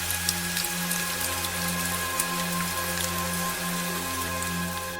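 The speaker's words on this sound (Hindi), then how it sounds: "रात हो जाती है और रात में बहुत तेज बारिश होती है।" Heavy night rain in a Hindi animated story about a harsh cold spell, a dense, even patter filling the scene, with a steady low hum running beneath it and no speech.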